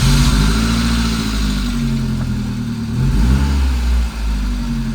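A Saab 900 Turbo engine, a project car, runs loud and close with a deep, uneven throb, briefly revving up and then dipping and stumbling near the end.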